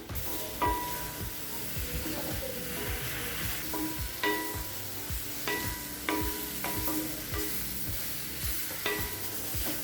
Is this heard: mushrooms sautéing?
yes